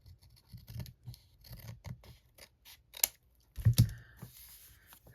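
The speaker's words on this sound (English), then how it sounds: "I gotta trim that a little bit." Scissors snip through craft paper in a quick series of crisp cuts, close and fairly loud, with a louder cluster of snips near the end and no talking.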